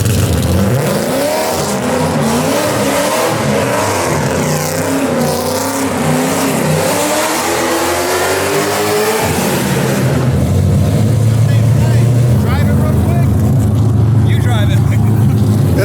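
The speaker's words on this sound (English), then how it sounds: "Try to do a burnout first" A supercharged LS-swapped Nissan Skyline of about 700 hp revs hard through a track burnout, its loud engine note climbing and sweeping before dropping to a steadier high roar, with a voice talking over the car.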